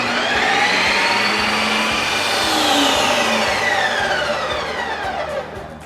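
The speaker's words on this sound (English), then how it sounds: "put this thing in the machine, turn it on, and we're gonna hit Lite Ice Cream" A Ninja Creami machine spins frozen mint chip ice cream on the Lite Ice Cream setting, giving a loud, close, continuous whirring drone with sweeping rising and falling pitch that winds down at the end.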